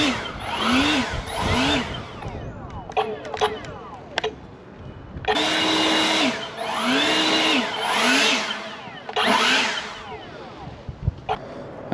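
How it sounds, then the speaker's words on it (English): A battery-powered leaf blower whining in repeated bursts, revving up and down with sharp rising and falling pitch sweeps, loud and close, with brief pauses and clicks between runs. "that leaf blower and batteries in the back of my truck"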